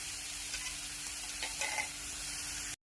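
Green chilies sauté in hot oil in a pan for batata vada, giving a steady sizzle with a few soft stirring scrapes before it cuts off abruptly.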